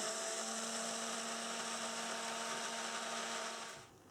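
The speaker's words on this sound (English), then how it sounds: "let's get our stick blender in now and use it to bring this to a light trace" A stick blender whirs steadily in cold-process soap batter made with charcoal, clay and nettle powder, a close, constant motor hum with a faint whine that runs alone for nearly four seconds before stopping.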